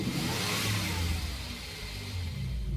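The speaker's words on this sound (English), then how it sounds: "you can hear that engine roar and the exhaust note" The 5-liter V8 of a 2013 Ford Mustang Boss 302 revving, a loud, close, deep engine roar with a rising exhaust note that swells and then eases slightly, with no talking.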